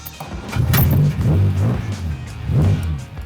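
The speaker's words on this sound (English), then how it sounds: "I think the first time the engine starts." A restored classic British car engine fires up and runs, a loud low rumbling idle with surging revs and a brief rise around the middle, close by with no talk.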